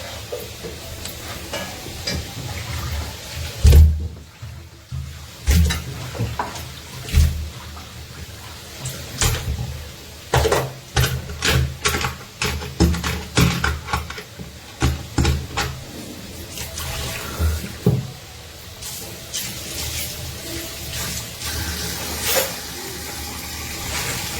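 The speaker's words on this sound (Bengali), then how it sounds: "এদিকে হচ্ছে মাছ ধুয়ে নিচ্ছি" Fish being washed with water in a home kitchen, irregular splashes, sloshing and knocks against a bowl repeating over a low background, no voices.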